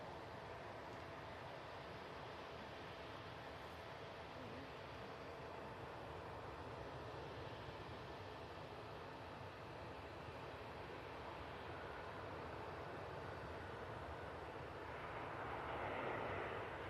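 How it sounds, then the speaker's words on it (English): A TUI airliner lands at Manchester Airport, heard as a faint, distant, steady roar that swells slightly toward the end, with no voices. "Nice landing there from the TUI."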